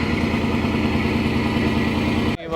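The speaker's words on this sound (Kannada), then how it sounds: "ಇಂಜಿನ್ನು ಇವಾಗ ಸ್ಟಾರ್ಟ್ ಮಾಡಿದ್ದಾರೆ." A fishing boat's engine idles steadily after starting at a port dock, a close, even low rumble with a regular pulse that cuts off abruptly near the end.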